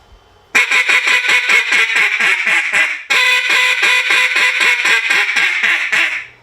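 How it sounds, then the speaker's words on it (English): A duck call blown in competition style, a fast-slow transition: two runs of loud, evenly spaced quacks, about ten in each, split by a brief gap, with no one talking. "I'll turn around after that and blow just a slow duck"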